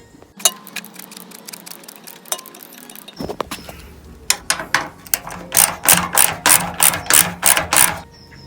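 Ratchet wrench undoing bolts on a Honda CB500X motorcycle petrol tank, close by: scattered clicks, then a steady run of sharp, loud ratcheting clicks in quick rhythmic bursts.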